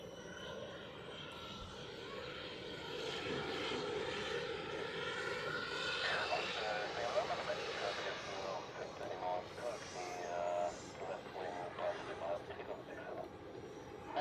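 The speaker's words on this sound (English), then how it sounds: "Etihad will depart on runway 16" An Etihad airliner's jet engines roar as it departs runway 16 at Zurich Airport on a freezing day, a broad, distant rumble building and holding, with people talking faintly over it.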